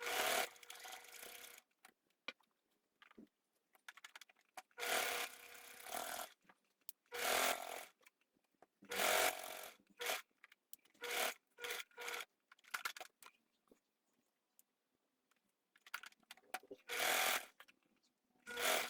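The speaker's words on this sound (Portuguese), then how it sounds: "eu vou lá na máquina, vou costurar aqui e aqui" A sewing machine stitches fabric strips onto a dish towel in bursts of whirring, each run lasting a second or two and separated by quiet pauses, close up and without speech.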